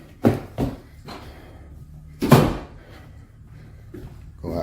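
A door is handled at the top of basement stairs, a few close thumps and knocks followed by one louder rattling bump, then quieter shuffling and a final knock.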